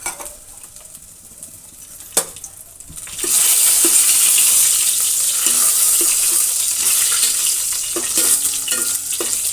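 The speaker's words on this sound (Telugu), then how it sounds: "జీలకర్ర కొంచెం ఫ్రై అయిన తర్వాత ఒక 5-6 ఎండుమిరపకాయలని ఇలా తుంచి వేసుకోండి" Cumin and dried red chillies fry in hot oil, with a quiet stretch and a few metallic clinks before a loud, steady sizzle takes over, broken by light utensil taps.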